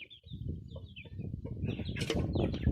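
Chickens being grabbed and caught, with clucking, flustered squawks and a burst of flapping wings rising near the end, all fairly close and moderately loud.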